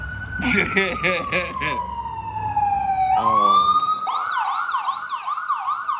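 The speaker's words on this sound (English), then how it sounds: "that's the ambulance." An ambulance siren wails loudly nearby, sweeping down in pitch and then switching to a rapid warbling yelp.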